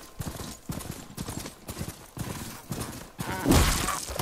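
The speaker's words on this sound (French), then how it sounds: "Cheval." Horse hooves clip-clop in a steady, even rhythm in the video game Horizon Forbidden West, close and moderately loud, with a brief louder burst of other game noise near the end.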